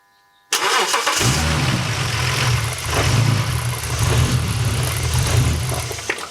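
A BMW E36 325i with an M54B30 engine cranks and catches, then runs roughly at a low idle, sputtering and uneven, then stalls.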